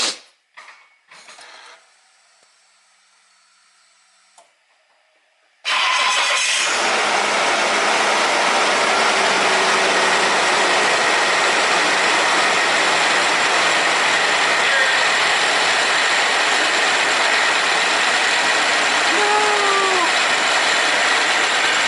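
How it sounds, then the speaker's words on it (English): An Isuzu engine with a rebuilt supercharger cranks briefly after some clicks and mechanical noises, then catches and runs at a loud, steady roar with a whine, holding constant for over fifteen seconds with no talking. "Hopefully it starts up and doesn't make any noise. Well, except for the motor."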